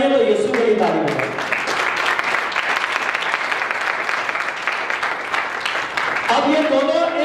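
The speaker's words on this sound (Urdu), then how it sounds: "اگر تالی بجانی ہے تو یسوع کے لیے تالی بجائیں." A church congregation breaks into sustained, dense applause during a sermon, loud and close, with a preacher's voice heard before and after the clapping.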